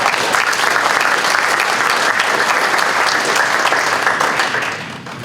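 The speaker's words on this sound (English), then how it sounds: "give him a round of applause for that." Dense audience applause at a welcome-back institute event, loud and sustained throughout with many hands clapping together, tapering off slightly at the very end, with no talk over it.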